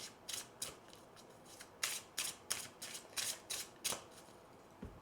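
Oracle cards being shuffled by hand produce a quiet, close series of crisp riffling bursts, around nine evenly spaced flicks, with no voices.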